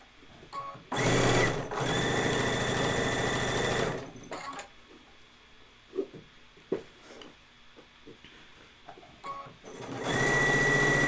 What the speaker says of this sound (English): So now this straight grain edge is going to sew down to this straight grain edge.